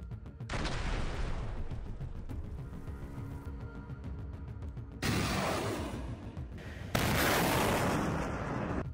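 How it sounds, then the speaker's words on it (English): Drones dropping TM-62 anti-tank mines onto a soldiers' shelter near a road, heavy explosions and blasts in distant battlefield audio, with roaring booms and sharp new bursts partway through, fairly faint overall. "drones carrying TM-62s flew over the road and fired anti-tank mines at the shelter where the two soldiers were located"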